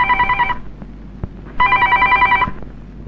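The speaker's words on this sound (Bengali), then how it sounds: "টেলিফোন বাজে শোনা পারস না?" An old-style telephone bell rings in two loud, trilling bursts separated by a short pause, close and clear with nothing else competing.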